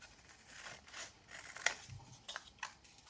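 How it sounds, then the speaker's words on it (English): Scissors cut paper for a handmade coin envelope in a junk journal craft, with a few soft, close snips and light paper rustle in a quiet room. "Then I'm going to cut these away, but not on the crease."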